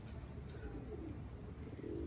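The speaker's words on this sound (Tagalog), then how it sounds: "Pero yan ang mga ibon" Racing pigeons coo softly at a loft during a one-loft race, a low, faint murmur of cooing set against a constant hum of background noise.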